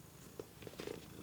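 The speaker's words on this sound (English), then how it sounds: "this cat is climbing on me, so I'm sorry" A cat purrs faintly and close by, a soft low rumble with a few small louder pulses, alone against quiet room background.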